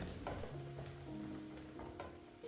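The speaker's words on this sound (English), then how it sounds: "At this stage, I have added chopped carrots. I'll mix it and cook it for a while." Chopped carrots and onions stirred and frying in a pan, with a soft steady sizzle and faint scraping of the spoon underneath. It is quiet and continuous with no talking.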